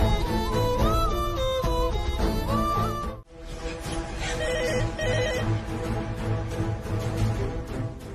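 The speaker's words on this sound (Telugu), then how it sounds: "ఇంట్లో ల్యాండ్ లైన్ కి ఫోన్ చేసినా లిఫ్ట్ చేయట్లేదు" A landline telephone rings in a house with a loud, repeating electronic trill, then a fuller, steady tone continues after a brief break.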